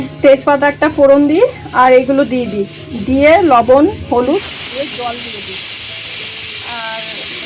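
Water poured into hot oil with spices, salt and turmeric bursts into a steady, loud hissing sizzle that follows a few seconds of talking.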